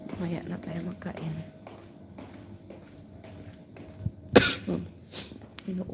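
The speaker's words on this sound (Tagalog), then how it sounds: "Inuubo." A sharp, loud cough bursts out once near the end, standing above a quiet room during a live home cleaning session, with soft background clatter and some talk around it.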